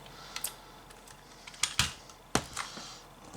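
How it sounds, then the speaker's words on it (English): Small screw being worked out of a diecast Porsche 911 model during restoration, heard as a few sharp close clicks and ticks spaced irregularly over a quiet background. "So I'll take this screw out here."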